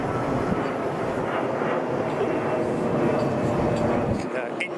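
Large jet airliners climbing overhead after takeoff from King County International Airport, Boeing Field, a loud continuous broadband roar that holds steady throughout, with talk mixed in underneath.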